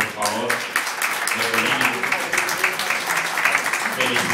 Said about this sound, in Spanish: Máximo, un aplauso, por favor.